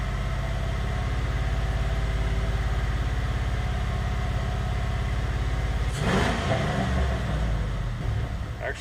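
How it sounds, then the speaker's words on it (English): An engine with a lingering cylinder misfire idles close and steady with a slightly uneven low pulse, then revs up briefly near the end before dropping back. "actually seems to pull quite a bit cleaner just free revving"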